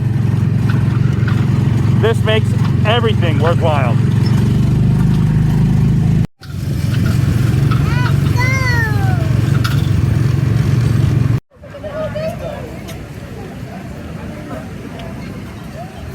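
Kid-driven ride cars at Disney's Magic Kingdom drone loudly and steadily with a low engine rumble, heard close up across three stretches, while people talk and a crowd murmurs over the noise.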